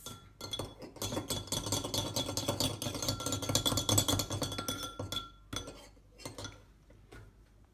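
A utensil whisks pancake batter in a bowl, producing steady rapid clinks and scraping against the dish for several seconds before slowing to a few scattered taps near the end.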